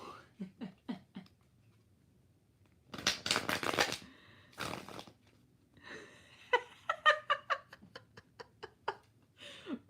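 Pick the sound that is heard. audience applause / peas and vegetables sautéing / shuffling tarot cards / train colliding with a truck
shuffling tarot cards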